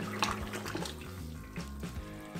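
Melted margarine poured from a hot pot into a large bowl while making a giant Twix bar, a steady liquid pour with a soft splash that runs throughout, close by and without talk.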